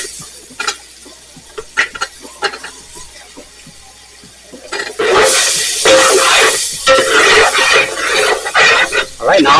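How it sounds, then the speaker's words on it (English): Vegetables for chicken and sausage gumbo sizzle loudly as they hit a dark brown roux in a hot pot, a sudden burst of bright hissing frying noise that starts about halfway through and continues steadily after quieter clatter and stirring sounds. "Listen to that sizzle."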